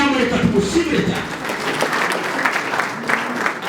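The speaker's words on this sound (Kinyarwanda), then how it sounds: "mundize amashyi y'amareka tumushimire cyane" Wedding guests at Yvette and Hirwa's wedding applaud the couple with steady, dense clapping that fills the room throughout, while a voice speaks over it.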